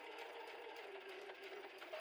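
A sewing machine runs steadily, stitching the curved centre seam of a quilted fabric bag made from 3.5 cm strips, as a faint continuous whirring hum with no pauses.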